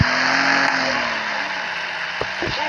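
A tuned car engine in a video game drones with a rising, slowly shifting tone, followed by a few short mechanical clunks near the end, loud and close with no talking.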